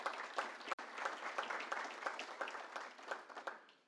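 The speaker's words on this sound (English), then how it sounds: "Please give him a round of applause." Audience at a Manatee Tiger Bay Club political forum applauds steadily, a dense wash of many hands clapping with a short break partway through, fairly soft and heard alone without speech.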